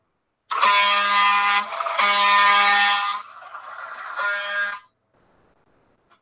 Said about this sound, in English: I was looking for an air horn